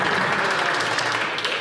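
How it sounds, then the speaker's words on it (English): Loud, dense applause fills the House of Commons chamber during Question Period, a brief close burst of many hands clapping at once. "Big round of applause there."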